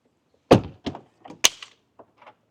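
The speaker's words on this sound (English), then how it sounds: "Close the door." A Tesla car door shuts with a close, solid thunk, followed by a few lighter knocks and rattles of handling the door in a quiet space.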